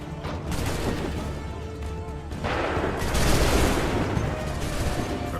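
Musket volleys crackle in Assassin's Creed III, a loud, dense barrage of overlapping shots that swells into a heavier roar of sustained gunfire partway through.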